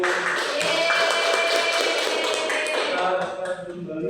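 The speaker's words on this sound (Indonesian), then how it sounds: "Bisa diberi aplaus" Classroom applause during a primary-school Indonesian lesson, a dense, steady patter of many hands clapping together that thins out near the end.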